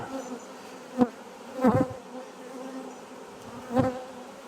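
A honeybee swarm poured into a hive, a steady close buzzing hum with a few dull knocks and thumps at irregular moments, no talk.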